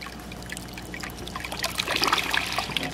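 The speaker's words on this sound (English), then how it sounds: "You might be able to hear that the siphon started," Water in an aquaponics system trickles and then gurgles and rushes as a siphon drains it away, growing louder and busier toward the end.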